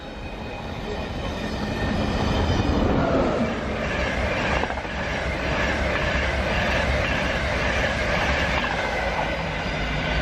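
A train rumbles past up close through a station, loud and continuous, with rhythmic clattering wheels and a faint high squeal over the heavy low roar.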